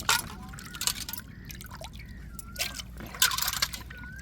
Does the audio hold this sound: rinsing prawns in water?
yes